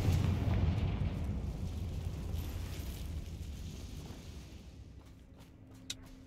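Confringo blasting spell explosions in the video game Hogwarts Legacy, a loud sustained deep rumbling burst that slowly decays over several seconds, with a small sharp pop near the end.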